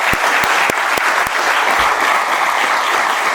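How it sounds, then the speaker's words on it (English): Loud, dense crowd applause at a Miami Hurricanes basketball introductory press conference honoring Coach Jim Larranaga, a steady roar of many hands with a few sharp nearby claps at the start. "Can we give him a round of applause?"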